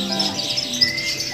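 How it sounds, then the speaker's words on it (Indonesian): Small birds chirp and tweet in the background at the Jatinegara animal market, high thin calls repeating over a faint steady hum. "Banyak burung-burung. Burung-burung berbunyi."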